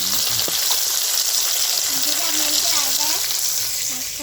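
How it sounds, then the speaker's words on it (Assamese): Fish frying on a wood fire in a pan sizzles loudly and continuously, with a voice talking over the crackling hiss. "এয়া মাম্মী যিয়ে মাছ ফ্ৰাই কৰি আছে"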